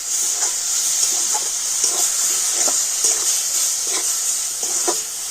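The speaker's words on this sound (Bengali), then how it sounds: "তো এবার আমি সব কিছু খুব ভালো করে মিশিয়ে নেব।" Dried date palm jaggery and milk are stirred together, with a constant bright hiss and rhythmic soft scraping strokes repeating close up, without any voices.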